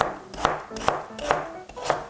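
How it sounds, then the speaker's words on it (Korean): A knife chops through raw peeled potatoes on a cutting board, giving five evenly spaced, sharp thuds, close and clear. "깍둑 썰기로 이용해서 믹서기 갈기 쉽게 탁탁탁 채 썰어줄게요"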